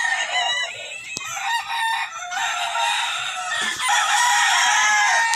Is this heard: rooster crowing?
yes